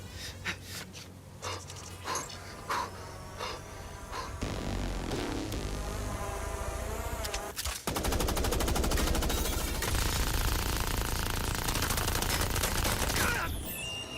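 Gunfire in the video game MindsEye: scattered sharp shots in the opening seconds, then a loud continuous barrage of rapid automatic fire that runs for several seconds before easing.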